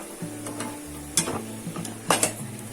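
Gulab jamun frying in oil over a low gas flame, a quiet, steady sizzle with a few sharper bursts of bubbling and clinks, plus a low mechanical hum beneath.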